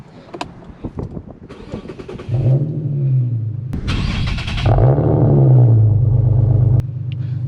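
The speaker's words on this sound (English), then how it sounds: "So let's go ahead and start the car." An Infiniti G37x with Vibrant resonators cranks and catches when warm, settles into a steady idle, then revs up loudly a couple of times before dropping back to a rumbling idle.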